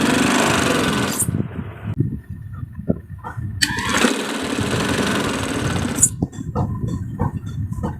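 Electric sewing machine stitching elastic into the waistband of trousers, a loud steady mechanical whir that runs in bursts with brief stops and restarts, heard close up without talking.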